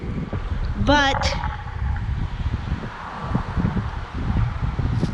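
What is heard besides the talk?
breezy wind outdoors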